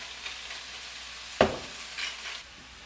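Spinach and fresh herbs fry in a pan in a Greek villa kitchen, a low continuous sizzle with a single sharp stirring clatter and a softer scrape after it.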